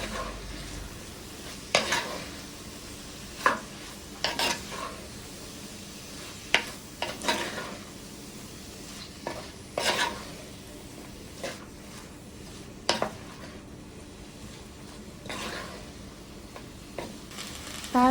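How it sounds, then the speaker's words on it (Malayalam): Bitter gourd with curry leaves being stirred in a pan for a traditional Kerala theeyal: a soft sizzle runs underneath, broken by irregular scrapes and clinks of the spoon against the pan every second or two. "ഇനി ഇത് നന്നായിട്ടൊന്ന് ഇളക്കി എടുക്കണം"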